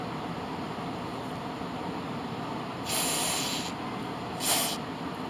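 Carb cleaner sprays onto carburetor parts from a Homelite AP125 water pump in two loud hissing bursts, a longer one and then a short one, over a steady background hum.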